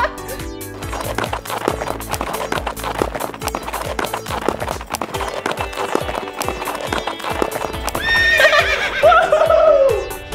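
Rapid rhythmic clip-clop of galloping horse hooves, loud and close, ends in a shrill whinny from the horse, as a sound effect.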